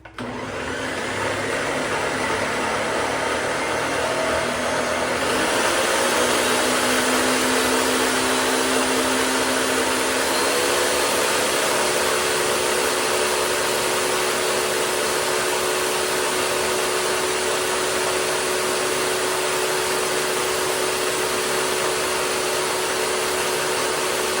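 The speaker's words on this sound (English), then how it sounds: "I'm going to puree that together just for a few seconds" A countertop blender runs continuously at high speed for about 24 seconds, pureeing a caramel-flavored homemade coffee creamer base, its loud steady whir shifting slightly in pitch partway through.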